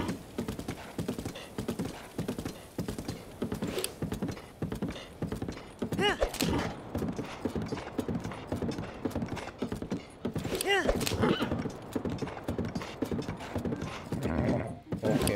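Horse hooves galloping in The Legend of Zelda: Breath of the Wild, a rapid rhythmic clip-clop that keeps pounding throughout, with occasional whinnies and a voice talking over parts of it.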